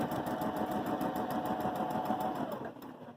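A Baby Lock Jazz II sewing machine stitches a buttonhole, its needle running in a fast, even mechanical chatter close by before slowing and stopping near the end.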